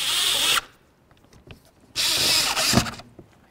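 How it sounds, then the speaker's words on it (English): A power drill drives screws while a side view mirror is fitted to a 2006-10 Dodge Charger, two loud whirring bursts of about half a second and a second with a quiet pause between, no talk. "go ahead and put in these screws. Let's get these screws in as well."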